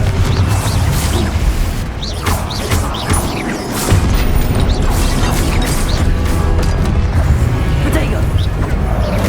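Confringo blast spell explosions in the Hogwarts Legacy video game, loud booming crashes and bursts layered with game combat effects, while a voice talks over the action.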